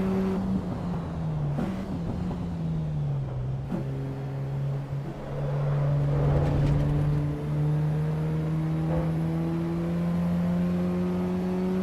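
A race car engine drones steadily in a video game on the Nürburgring Nordschleife, its tone sliding down and rising again through gear changes, loud and close with no talking.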